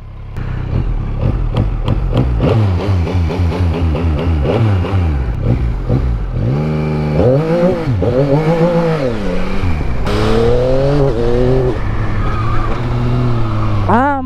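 A 2025 Yamaha XSR 900 motorcycle engine revs up repeatedly, pitch climbing and dropping in loud bursts, then settles into sustained higher revving close by.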